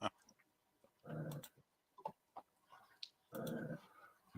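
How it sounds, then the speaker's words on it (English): Dogs at home making noise: short grumbling, whining vocal bursts with clicks and faint ticks between them, fairly quiet and somewhat distant, with no talk. "my dogs have always got to have some sort of commentary"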